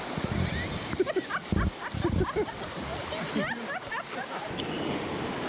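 Fast river rapids rush and splash around tubers on a river in Grenada, a steady broadband wash with intermittent sharper splashes, while voices chatter and laugh over the water.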